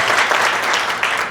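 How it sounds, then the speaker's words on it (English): Brief burst of audience applause for the speakers at a women's empowerment conference in Edmonton, a dense steady wash of many hands clapping throughout with no talk over it. "Give a huge round of applause to all of our incredible speakers."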